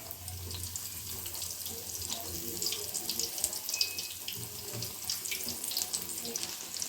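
Bajji fry in hot oil with a steady, hissing bubbling that carries on throughout, close and moderately quiet, with no talk over it.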